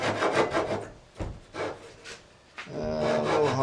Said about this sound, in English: I'm going to trim them all off, and trim off these ends right here.